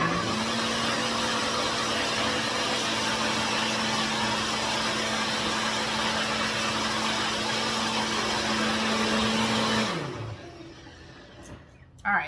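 A blender on high power purees sweet potato with cinnamon, a loud steady motor whir with a constant hum that runs unbroken for about ten seconds, then winds down and stops.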